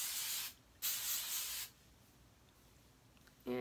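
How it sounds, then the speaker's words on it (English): Hairspray from an aerosol can hisses onto hair in two close bursts, a short one and then a longer one, with quiet pauses after each and faint handling at the end. "So I'm going to take a little bit of hairspray"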